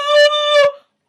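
A voice imitates a school fire bell with a single sustained, bright harmonic tone that swells and dips slightly midway, lasting under a second before cutting off into silence.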